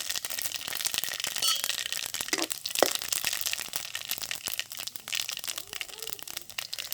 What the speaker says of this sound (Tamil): முதல்லாம் கடுகை சேர்க்கிறேன் எண்ணெயில். கடுகு வெடித்தா தான் வாசம்